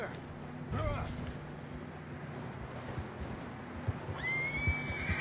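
A horse in the video game Red Dead Redemption II whinnies twice, a short neigh early on and a longer, clearer one near the end, over a low ambient bed with faint hoof thuds and muffled voices.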